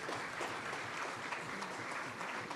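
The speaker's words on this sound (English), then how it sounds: "Let's give Her Excellency a round of applause, please." Audience applause at an aviation honours ceremony, a steady wash of many hands clapping at a moderate level with no breaks over the short span.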